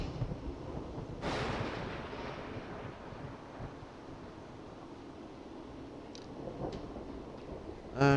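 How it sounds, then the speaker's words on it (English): Wind gusting across an outdoor scene in the video game Final Fantasy XIV, a steady broadband rush with a swelling gust near the start, faint distant ticks later, and a brief louder burst at the very end. "Sounding like it's getting a little windy out here. Good, I like the wind."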